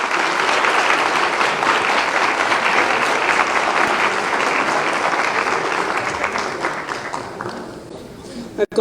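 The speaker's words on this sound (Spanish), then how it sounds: "despedimos a nuestros panelistas con un fuerte aplauso" Audience at a nutritionists' day commemoration applauding departing panelists, a full, steady burst of clapping that gradually thins out and ends with a brief thump.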